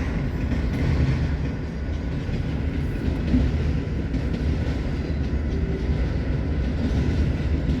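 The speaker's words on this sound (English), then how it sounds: "here's one of those cool gray CSX gondolas I like." A CSX freight train of gray gondola cars rolls past close by, a steady loud rumble of wheels and cars with faint rhythmic clatter throughout, no voices.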